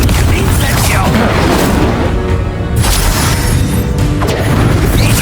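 Loud bursts and crashing booms from the Confringo explosion spell in Hogwarts Legacy, dense and continuous over game effects with a voice present.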